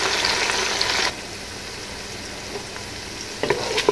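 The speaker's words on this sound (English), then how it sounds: "cook the onion for 5 minutes" Onion fries in a pan with jalapeno, giving a steady sizzle that is loud at first and then softer and steadier, with a few stirring clinks near the end.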